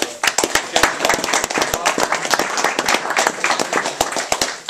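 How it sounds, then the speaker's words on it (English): Audience applause at the Isle of Man TT race launch event, loud and close, with dense overlapping hand claps in a brisk irregular rhythm sustained throughout. "Round of applause, I think"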